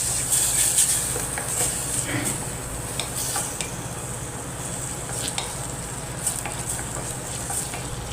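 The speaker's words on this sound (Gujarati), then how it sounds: "બધી વસ્તુને સરખી રીતે હલાવી લઈએ" Tomatoes, onion, chilli and chopped vegetables stirred in a frying pan, making a continuous close sizzle with scattered light scrapes and taps of the spoon throughout, no talking.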